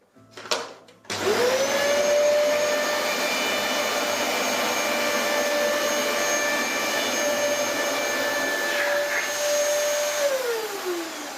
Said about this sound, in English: So this is using the Dyson DC33 vacuum on carpet mode.